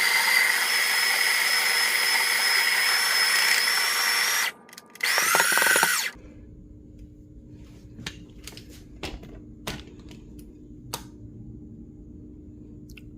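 A coffee grinder grinds espresso beans at a fine setting, a loud steady whirring buzz for about four seconds, a brief pause, another short burst, then it stops, followed by quiet clicks and taps.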